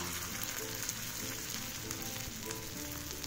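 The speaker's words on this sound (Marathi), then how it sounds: "अशा नुसत्या करून घ्यायच्या आपण अशी तेलात सोडायचं" Beetroot cutlets fry in hot oil with a steady, faint crackling sizzle, soft popping continuing evenly throughout without any voices.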